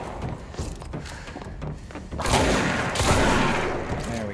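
Gunfire in the video game Control, including shotgun blasts: a noisy stretch of shots and thuds, with two louder broadband bursts in the second half, close and heavy. Faint game sound continues underneath.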